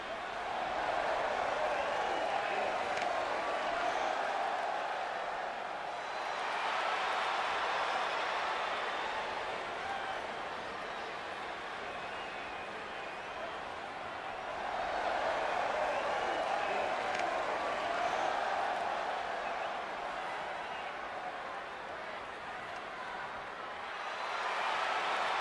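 A large arena crowd in the WWE 2K20 wrestling video game roars and cheers steadily and loudly, the sustained wash of noise swelling and easing in waves throughout, with no clear talk over it.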